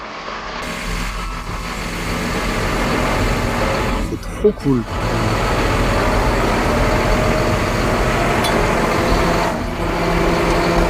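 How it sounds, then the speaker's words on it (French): A large tractor engine runs on a sweet potato farm, a steady, loud rumble that continues under people talking nearby. "ils font tourner le tracteur"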